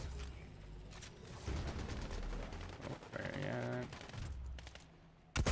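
Scattered gunshots and short bursts of fire in a competitive online shooter match, moderately loud in irregular clusters, with a tonal in-game sound in the middle and a sharp hit at the very end.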